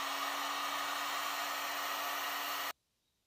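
A heat gun blows hot air over heat-shrink tubing on wire connectors for a Yamaha FZ6 LED taillight harness, a steady loud whirring rush with a constant hum that cuts off abruptly at the end.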